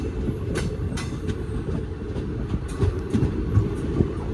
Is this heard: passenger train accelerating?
yes